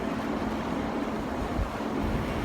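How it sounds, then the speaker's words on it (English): Steady wind and breeze rush across an open outdoor area in a quiet city district, a soft continuous broadband wash with no voices. "it's quiet here with just the wind, the breeze"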